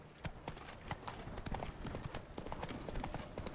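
Horse hooves clip-clopping in The Witcher 3: Wild Hunt, a dense, steady gallop of sharp hoofbeats running throughout, close and fairly loud with no talking.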